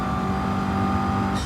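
Gran Turismo 7 race car engine held at steady high throttle, a loud continuous tonal drone with a slight rise toward the end.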